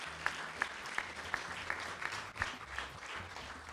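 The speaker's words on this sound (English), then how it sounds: "why don't we have a round of applause for your wonderful faculty members" An awards-show audience claps for faculty members in fairly soft, steady applause with a few sharper individual claps standing out, heard at a distance.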